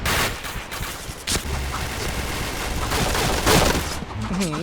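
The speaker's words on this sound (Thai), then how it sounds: "ยิงกันโบโบ" Rapid, continuous gunfire in the shooter game Point Blank during a headshot-only match, dense and loud throughout, with a player's voice talking over it.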